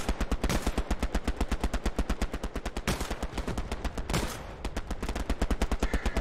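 Rapid, steady automatic gunfire from the World War II shooter Hell Let Loose, a long, evenly paced machine-gun stream that is loud and close with only a brief pause near the end.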